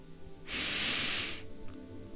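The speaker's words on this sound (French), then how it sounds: "Puis inspirez profondément par le nez," A deep inhale drawn through the nose during a guided relaxation exercise, one long steady breath of about a second, close and clear with no talking.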